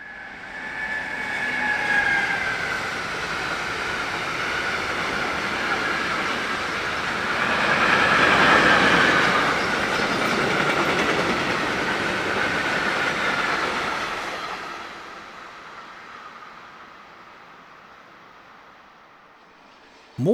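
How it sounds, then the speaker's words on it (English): Several old locomotives haul a northbound train of tank wagons from Ingolstadt past the listener, a loud steady rumble of wheels and wagons with brief squeals, swelling midway and fading away near the end. "More old school power here, as 143, 138 and 856 pass by on a set of northbound tanks from Ingolstadt."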